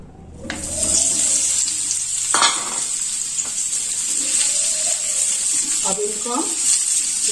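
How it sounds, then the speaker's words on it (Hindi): Mini potatoes drop into hot oil and fry with a loud, continuous hissing sizzle that starts abruptly and holds steady, with a clatter partway through and a voice speaking faintly at times. "ऑयल हमारा गर्म हो गया है तब हम इसमें डाल देते हैं ये मिनी पटेटो"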